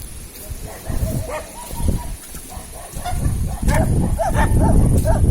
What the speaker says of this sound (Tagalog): may mga aso na laman. Tumatahol.